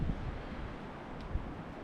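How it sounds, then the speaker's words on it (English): Strong wind buffets the microphone outdoors on an extremely windy day at a log yard, a steady low rumble with rustling and no talk. "Sorry about the wind."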